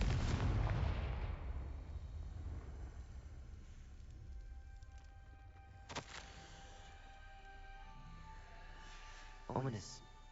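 A Confringo blasting spell in Hogwarts Legacy erupts as a loud, booming explosion that rumbles and decays slowly, followed by fainter thuds and a crackling burst.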